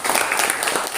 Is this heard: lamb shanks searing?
no